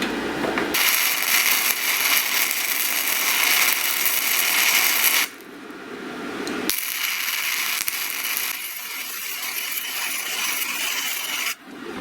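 Flux-core welding on a slightly thicker steel piece with a SIMDER 5010 Pro welder: loud, continuous crackling sizzle close up, broken by one short pause in the middle and a brief dip near the end.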